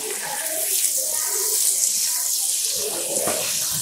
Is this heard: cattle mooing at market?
no